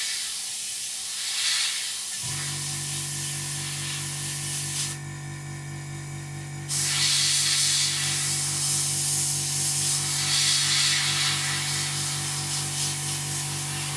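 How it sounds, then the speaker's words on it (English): An airbrush sprays paint onto an Eduard 1/48 MiG-29 model kit, a steady close hiss over a constant low compressor hum that continues unbroken with no speech. "go around and spray the rest of the model"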